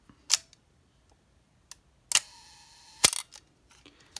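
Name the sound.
Nikon FTN camera shutter firing at slow speeds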